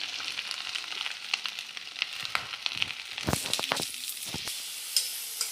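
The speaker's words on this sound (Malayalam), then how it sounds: "ചട്ടി ചൂടായി വന്നിട്ടുണ്ട് അപ്പോൾ അതിലോട്ട് നമുക്ക് സവാളയും പച്ചമുളകും ഇടാക്കാം" Onions and green chillies frying in a hot pan, a steady loud sizzle with crackles and a few sharp stirring knocks, no voices.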